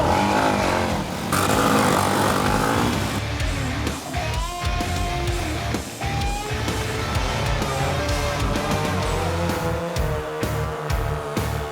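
Several street motorcycles rev hard and race off together, loud buzzing engine tones rising and shifting in pitch over a dense layer of mixed music and noise.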